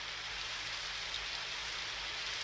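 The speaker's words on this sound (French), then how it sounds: "C'est pas drôle de regarder tomber la pluie." Steady, even rain falls outside, a continuous broad hiss with no gaps, heard alone without talk.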